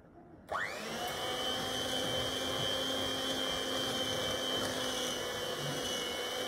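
Electric mixer beating dough with softened butter and vanilla: the motor starts abruptly after a half second of quiet and then runs as a steady, even whir with a high steady tone, close and constant to the end.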